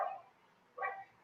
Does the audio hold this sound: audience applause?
no